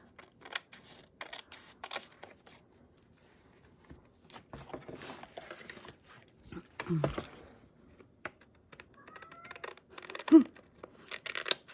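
Scissors trim paper for a collage gluebook in quick, quiet snips and short bursts of rustling, with scattered soft handling noises between cuts.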